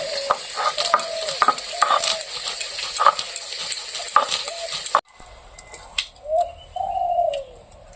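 Nuts ground into a paste with steady, rhythmic scraping strokes about twice a second, close and fairly loud, then the grinding falls quieter and sparser while birds chirp in the background.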